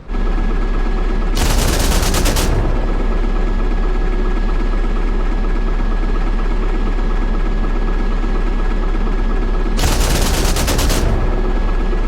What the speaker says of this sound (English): Guns! Yes, guns!